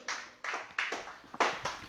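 A church congregation claps for Christ during a Spanish-language worship service, with sharp, fairly loud claps landing in a loose, uneven rhythm, about six in two seconds.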